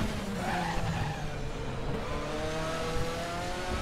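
A DTM race car engine at the Hungaroring in a 2014 video game drones and shifts pitch as tires squeal in a sideways slide, steady and fairly loud, with no one speaking.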